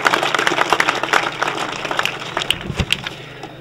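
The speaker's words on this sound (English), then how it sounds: "I ask you to give them a round of applause." An audience at the official opening ceremony of the Kilmichael sports complex gives a short burst of applause. The clapping is scattered and moderately near, with a few sharp individual claps as it tapers off.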